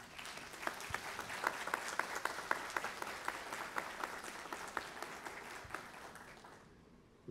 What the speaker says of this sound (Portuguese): Vou pedir uma salva de palmas